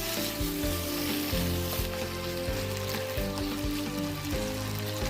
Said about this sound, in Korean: 볶다 보면 소세지가 칼집이 벌어지면 잘 볶인 것이니 만들어 놓은 양념을 넣고 잘 섞어주면서 양념이 배이도록 합니다.